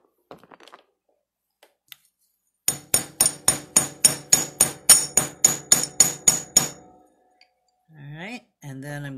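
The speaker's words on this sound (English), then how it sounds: "get my bench block and chasing hammer. And I'm going to just flatten this very tip of this wire here." A chasing hammer strikes a wire tip on a steel bench block while flattening it for chainmaille, about a dozen sharp metallic taps in a quick even rhythm, close and loud, with brief speech afterwards.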